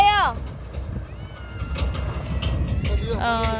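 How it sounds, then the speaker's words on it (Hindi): A cat meows twice, once at the start and again near the end, each a rising and falling cry heard close by over a low background hum. "यहाँ पे है बिल्ली"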